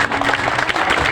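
Audience clapping at an event honoring a Panchayat web series actor in Bihar, a dense, steady patter of many hands filling the short moment without voices.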